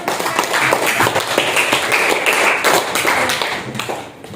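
A group of students in a classroom give a round of applause, a dense run of quick, close hand claps that holds steady for several seconds before tapering off.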